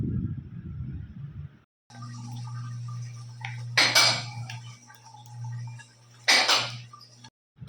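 Spice paste poured into a pan of fried onion, ginger and garlic for egg korma, with two sharp bursts of clatter and sizzle over a steady low stove hum.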